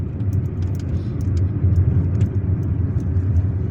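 A car driving through Algiers on a weekday route toward Hydra, its engine rumbling and tyres droning steadily from inside the cabin, with no talk.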